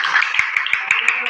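Students in a classroom clap together in a rhythmic pattern, a series of six or seven sharp, evenly spaced unison claps, close and fairly loud, over a faint murmur of other hand claps.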